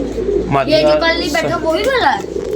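Pigeons coo in soft, throaty warbles close by, a few rolling calls overlapping one another.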